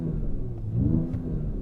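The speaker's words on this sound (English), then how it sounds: "Give it a little bit of a rev." A Mercedes-AMG CLS 53 in Sport Plus, idling in neutral, gives a short rev that swells and fades, a low close engine rumble heard alone without talk.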